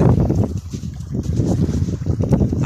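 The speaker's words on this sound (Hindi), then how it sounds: "हवा चल रही है" Steady wind gusts roar by the sea during a rainy, cloudy November fishing trip, with buffeting microphone noise filling the whole stretch.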